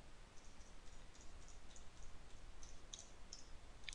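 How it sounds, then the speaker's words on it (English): Computer keyboard keys pressed one after another while typing symbols with shift held, producing faint, sparse clicks with a quiet room hum behind. "I'm going to hold down shift on my keyboard and I'm going to go across the top"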